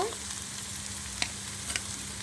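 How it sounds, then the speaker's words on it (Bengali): Onions browning in hot oil in a wok while a shrimp bhuna is being prepared give off a steady, soft sizzle with a couple of faint clicks of a utensil, and no one speaks. "এখানে আমি কড়াইতে তেল দিয়ে পেঁয়াজটাকে লাল করে নিয়েছি"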